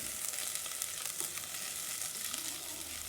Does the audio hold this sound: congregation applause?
no